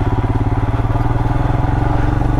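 A Royal Enfield Himalayan motorcycle rides off-road on a Bobblet's Gap trail, its single-cylinder engine thumping in a steady, loud, close pulse with light clatter and no talking.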